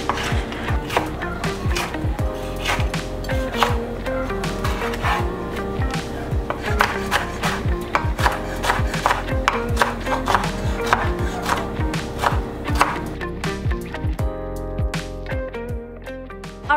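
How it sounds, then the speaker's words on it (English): A knife slices a chili dulce on a cutting board while gallo pinto ingredients are prepared, with steady, close, crisp cuts tapping the board in a quick, even rhythm. "Slice this baby in half."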